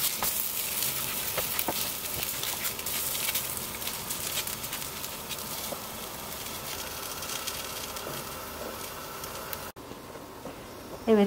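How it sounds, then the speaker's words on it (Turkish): Börek pastries fry in oil in a pan, giving a steady close crackling sizzle with soft spattering throughout, no voices over it. "Kalan börekleri de aynı tavada kızartmaya devam ediyorum."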